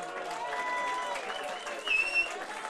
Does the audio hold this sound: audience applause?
yes